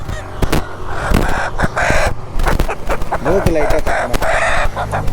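Native country chickens at a market in Karnataka cluck and squawk close by in repeated bursts, with a crow breaking through, while people talk over them.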